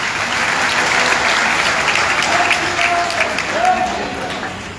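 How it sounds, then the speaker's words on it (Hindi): Loud, continuous applause from a large crowd at a political campaign rally in Nawanshahr, Punjab, fills the whole stretch, with a few brief voice-like tones rising above the clapping. "जोरदार तालियां बजाकर के इनका स्वागत करें।"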